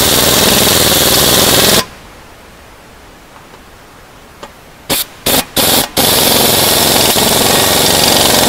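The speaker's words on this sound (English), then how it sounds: "you can go ahead and tighten everything down" A power tool tightens bolts on the A-arm of a 2018 Polaris Ranger 1000 side-by-side. Loud, steady broadband roar gives way to quiet, then four short sharp bursts in quick succession before the roar returns.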